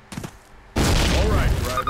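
A loud burst of explosive blasts and crackling gunfire in Call of Duty erupts after a quieter opening, dense and continuous, with a voice talking under the noise.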